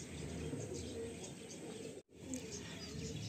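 Pigeons in a loft of Kaldum pigeons give soft, low cooing and murmuring over steady broadband ambient noise, with a brief dropout midway through.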